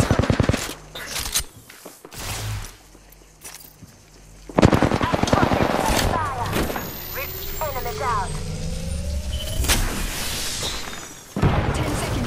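Gunfire in the Apex Legends battle royale game, bursts of shots and booms scattered through the clip amid game effects, with a voice talking over parts of it.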